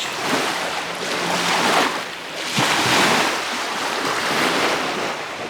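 Ocean waves surge and wash steadily onto a beach at a scenic overlook in Williamsburg, Virginia, two broad swells rising and falling amid steady wind noise buffeting the microphone, with no one speaking.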